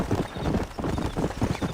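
Horse hooves clip-clop steadily in Red Dead Redemption, a continuous close galloping rhythm of muffled thuds with no talk over it.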